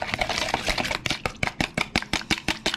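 A small amount of low sodium Kikkoman soy sauce with sugar being whisked for yakisoba sauce, heard as close, rapid, rhythmic clicking strokes that grow steadier and more evenly spaced.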